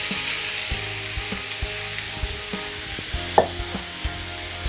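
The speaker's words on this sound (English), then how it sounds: "So just fry the onions." Onions frying in a small amount of oil in a pan, a continuous close sizzle with light stirring clicks and scrapes, no talk.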